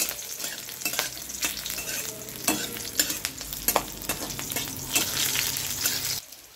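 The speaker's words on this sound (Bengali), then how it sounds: "একটু বেশ ভালো করেই ভাজতে হবে এটা।" Garlic and chillies frying in a pan, a continuous crackling sizzle broken by sharp scraping strokes as the food is stirred.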